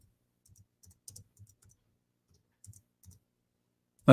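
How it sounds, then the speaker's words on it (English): Typing on a computer keyboard, sparse clusters of light close clicks with pauses between bursts, ending in a sudden louder knock. "I'm typing in English."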